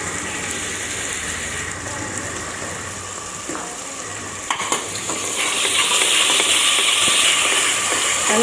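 Onions sizzle and crackle in hot oil while a utensil stirs and scrapes the pan, the frying growing louder toward the end.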